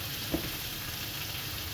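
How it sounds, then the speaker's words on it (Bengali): Homemade spice masala frying in oil under a lid in a pan for a mustard-oil fish dish, a steady low hiss of sizzling with one faint knock early on. "আমি একটু ঢাকা দিয়ে এটা কষাই।"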